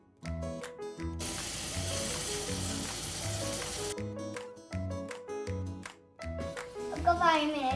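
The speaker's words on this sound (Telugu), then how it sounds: "ఇప్పుడు ప్యాన్ మీద కొంచెం ఆయిల్ వేసుకొని మనం చికెన్ వేయాలి." Chicken frying in oil in a pan, a loud broadband sizzle surging for a few seconds in the middle, with a person talking before and after it.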